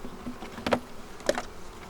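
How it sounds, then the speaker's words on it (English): Honey bees humming at an open hive, a faint steady buzz with a couple of louder passes as bees fly close by. "Hi, bees"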